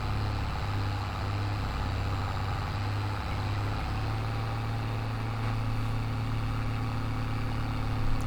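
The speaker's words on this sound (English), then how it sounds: "let's get the tractor and the trailer back to the house so we can empty it" A tractor pulling a trailer in Farming Simulator 22 drives along with a steady, droning engine hum and a low rumble that continues evenly throughout, with no talking.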